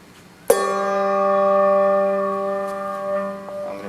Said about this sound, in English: I'm going to play the low bell first.